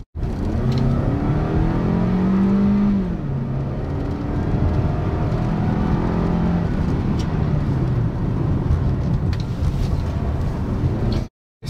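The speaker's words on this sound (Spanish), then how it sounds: "Vamos a dar una vuelta más con esta Toyota RAV4 SE 2016 en la prueba de" A 2016 Toyota RAV4 SE with all-wheel drive runs an autocross course, its engine droning steadily and rising and falling in pitch as it accelerates, with some tire and wind noise, heard close and loud throughout.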